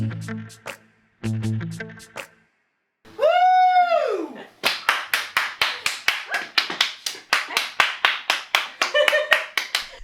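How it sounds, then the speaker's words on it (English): A single person claps rapidly and steadily, sharp close slaps in a quick rhythm, following singing and a rising vocal note. "I'm the only one here, so I thought I would clap a lot."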